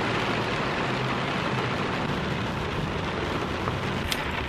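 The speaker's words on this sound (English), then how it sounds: "it started pouring rain" Heavy rain pours steadily onto a car travelling at highway speed in Indiana, a dense, unbroken roar of drumming water and road noise with no voices.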